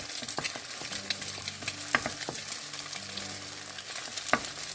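Egg fries in a hot pan for shrimp fried rice, giving a constant close sizzle with scattered pops and the scrape of stirring throughout.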